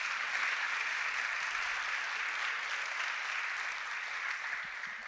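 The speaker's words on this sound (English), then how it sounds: "let's give my hand a round of applause." At a school awards assembly, an audience applauds in a continuous round of clapping, fairly distant and soft but steady from start to finish.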